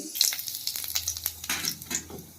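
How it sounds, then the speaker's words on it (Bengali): Whole cumin seeds spit and crackle as they hit hot oil in a pan. Sharp popping sizzles come in close bursts, over a low steady hum. "এবার আমি গোটা জিরে দিলাম ফোড়নের মধ্যে,"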